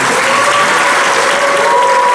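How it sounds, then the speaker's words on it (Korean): Dense, steady audience applause fills a church leadership retreat hall, welcoming a guest speaker; loud, continuous clapping throughout with no break. "다 같이 한번 박수로 환영합니다."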